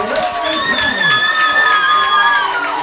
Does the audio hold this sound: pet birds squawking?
no